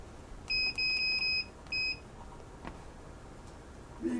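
An electric pressure cooker gives a quick series of near, bright electronic beeps as its timer is set, five short tones in a row, then one more after a pause.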